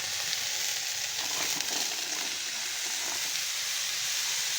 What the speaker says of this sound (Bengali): এখন আমি সবজিগুলি ভেজে নেব